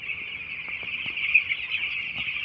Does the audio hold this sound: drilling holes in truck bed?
no